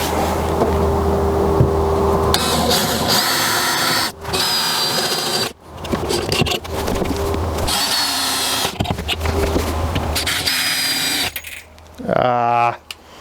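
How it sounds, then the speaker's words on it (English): A power drill whines and grinds steadily through metal for several seconds with brief pauses between bursts, loud and close, with voices speaking now and then, while drilling seat bracket holes in a Mercedes Sprinter van. "I don't know if my drill's long enough to go through those"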